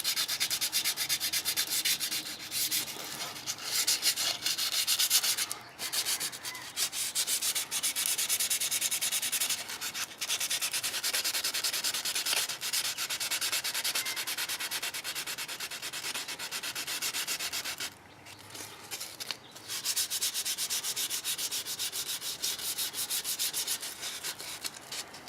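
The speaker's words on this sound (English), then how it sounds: "just give it a real light sanding, get all these imperfections off" A wooden Condor Nessmuk knife handle is sanded lightly with 220 grit sandpaper. The close, continuous scratchy rubbing comes in steady strokes with a few brief pauses.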